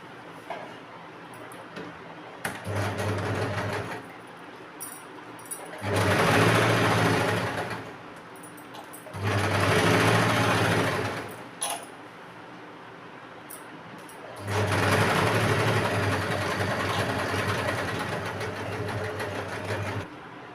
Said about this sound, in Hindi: इसे बीच में सिलाई मारेंगे ताकि ये कपड़ा हमारा खिसके नहीं।